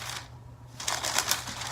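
Paper packing inside a Jordan 1 Travis Scott sneaker box rustles softly in short, crisp crinkling bursts close to the microphone.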